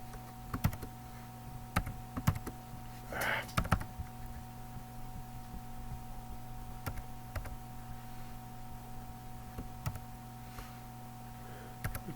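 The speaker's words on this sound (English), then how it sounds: "I'm really not doing well in typing today" Keys tapped on a computer keyboard in short uneven bursts of clicks, fairly close, over a steady low electrical hum, with no talk.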